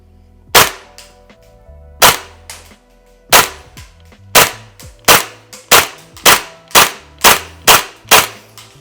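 Tokyo Marui M4A1 MWS CQBR Block 1 airsoft replica firing single sharp gas-blowback shots at a target, using its stock magazine. Around a dozen loud cracks, spaced out at first, then coming in a faster steady rhythm.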